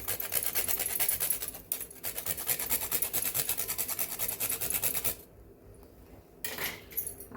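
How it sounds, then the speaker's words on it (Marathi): Nutmeg is grated over a sweet puran mixture simmering on a low flame, making a steady dry rasping scrape that runs continuously, breaks briefly, then falls away before a short final burst near the end. "आता मी थोडंसं ह्याच्यामध्ये जायफळ किसून घेते"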